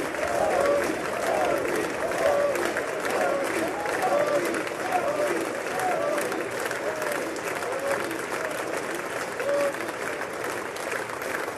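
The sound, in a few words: applause at a Modi event in a played video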